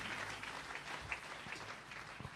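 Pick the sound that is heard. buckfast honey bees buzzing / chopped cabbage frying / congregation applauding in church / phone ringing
congregation applauding in church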